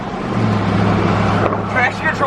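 A Silverado pickup truck with Fox Racing adjustable shocks and long-travel control arms cruises at over 60 mph, giving a loud, steady engine and road drone with a constant low hum from inside the cab.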